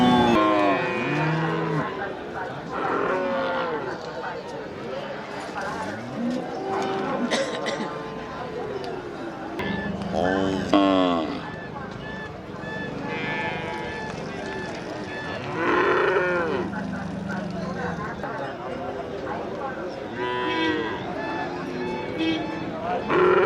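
Local cattle moo repeatedly at a cattle market in Manapparai, long drawn-out calls rising and falling, amid the chatter of many people talking nearby in a crowded open space.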